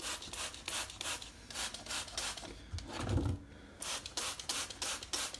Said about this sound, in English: spray this everywhere